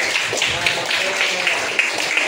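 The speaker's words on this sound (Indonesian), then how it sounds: "kasih tepuk tangan dulu buat Angel" Scattered classroom clapping for a student named Angel, a steady patter of many hands at moderate loudness, with some voices mixed in.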